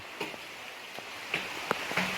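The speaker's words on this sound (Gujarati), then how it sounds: "ચાલુ વરસાદ જો" Monsoon rain on the Girnar hills near Junagadh makes a soft, distant patter with a few sharper drops standing out from the wash.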